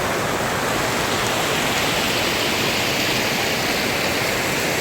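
Water of the Shibkhola stream rushing over rocks, a steady loud broadband roar without break, close by, with no voices.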